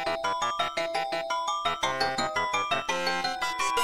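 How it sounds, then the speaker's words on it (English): Clean, unprocessed acoustic xylophone in music for a skeleton boss fight, playing a steady run of brisk struck notes in a repeating rhythmic pattern, bright and close, with no voices. "I'm gonna bring in an actual xylophone without bit crushing."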